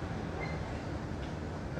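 Steady rumble and hiss of a Singapore MRT train in motion, heard from inside a quiet carriage near Mountbatten station, continuous and even with no speech.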